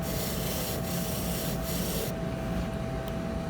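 A polishing wheel buffs a trimmed case, working into the groove between the peripheral and gingival rolls, giving a steady, close, continuous rubbing whir that lightens slightly partway through.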